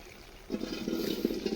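Water rushing and gurgling through the pipes of a cow milking machine as it is cleaned with the cups dipped in a bucket, a soft faint start swelling into a steady close sloshing flow.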